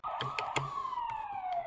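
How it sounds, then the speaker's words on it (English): Police sirens wail in the Grinch 2 video game, a clear descending siren tone with several short percussive knocks layered over it, fairly close and with no talking. "Sounds like police sirens."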